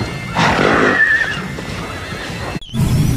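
A horse lets out a loud, close whinny that rises and trails off, followed by a brief pause and then some shuffling noise.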